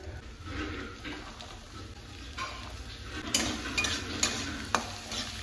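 Carrots and beans fry in oil with a little ghee in a pan, giving a low, even sizzle with scattered spoon scrapes and light metal clinks that grow a bit louder toward the end, no one speaking.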